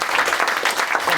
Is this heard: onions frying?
no